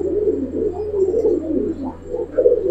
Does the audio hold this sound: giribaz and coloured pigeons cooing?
yes